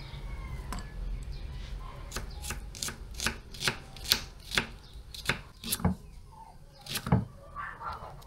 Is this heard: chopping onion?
yes